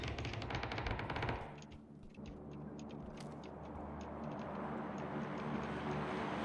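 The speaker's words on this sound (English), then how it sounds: "Oh, far away over there, he's getting shot." Rapid machine-gun bursts open the scene in a shooter video game, then give way to distant, scattered shots over a steady background rumble.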